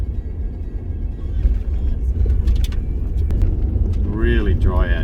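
A 1976 Jaguar XJC V12 rolls along a dry gravel road at about 30 to 40 km/h, giving a steady, loud low rumble of tyres and engine from inside the car. A voice cuts in near the end.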